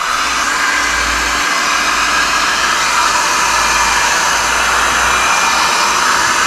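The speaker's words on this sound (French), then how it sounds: "on va utiliser un décapeur thermique de façon à monter la température de la tôle" A heat gun blows hot air across the sheet-metal hood of a Fiat, a loud steady roaring whoosh with a low rumble beneath, constant and close throughout.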